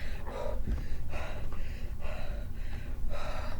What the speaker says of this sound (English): And we start to breathe, not like this